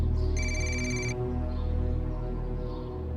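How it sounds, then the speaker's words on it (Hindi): A telephone rings with a bright electronic trill in a TV drama scene, heard once briefly over a steady bed of background music. "ये खान फोन क्यों कर रहा है अभी?"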